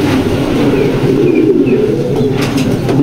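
Many pigeons in a pigeon loft, including Maxi hens, fill the air with continuous low, throaty cooing, close and steady, with a few faint higher chirps over the murmuring mass.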